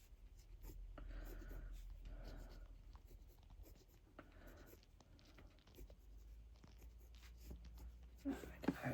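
Pencil sketching on paper while drawing a snowy mountain skiing scene: steady scratchy strokes in short bursts, fairly close and soft, with a brief louder scrape near the end.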